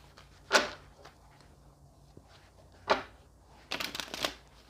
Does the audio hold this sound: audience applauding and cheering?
no